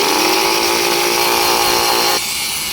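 Cheap Harbor Freight angle grinder cutting, a loud, harsh high-pitched whine close up that cuts off abruptly near the end, leaving a lower hum.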